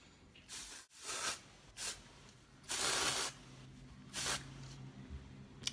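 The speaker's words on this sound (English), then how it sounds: "is spray it in my hair before I like run my fingers through it. You just kind of like spray it." Hair spray hisses in several separate bursts onto freshly curled hair, each spritz close and fairly loud, with short pauses between the sprays.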